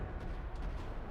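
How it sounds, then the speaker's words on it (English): Gunfire rattles in a parking lot in Max Payne 3, a few quick muffled shots over a dense, noisy backdrop in a short burst. "Another parking lot rattling with gunfire."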